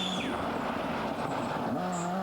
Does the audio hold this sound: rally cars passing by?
yes